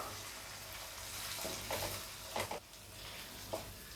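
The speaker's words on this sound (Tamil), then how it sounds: "தக்காளி நல்லா கரைஞ்சி வர வரைக்கும் நம்ம வதக்கி விட்டுட்டே இருப்போம்." Finely chopped onions and tomatoes sauté in a pan with a soft, continuous sizzle, joined by several brief scraping strokes as they are stirred.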